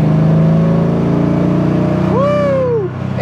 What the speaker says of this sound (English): So even in fourth gear, just cruising down the road at what was 55 and you get on it, it goes.